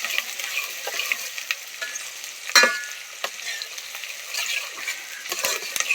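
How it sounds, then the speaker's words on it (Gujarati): Onion, tomato and garlic frying with spices while being stirred, a continuous close sizzle broken by scraping stirs and occasional sharper clinks. "મસાલો નાખી દીધો છે. ડુંગળી, ટમેટા, ડુંગળી, લસણ હલાવો."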